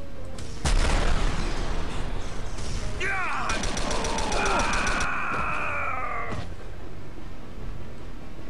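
Gunfire in the first-person shooter Star Trek Elite Force 2 plays loud and close, with bursts of shots, energy-weapon whines and booms layered over one another. No voices are heard.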